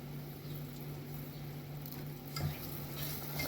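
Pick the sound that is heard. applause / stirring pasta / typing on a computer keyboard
stirring pasta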